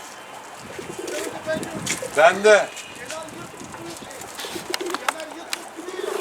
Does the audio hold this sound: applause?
no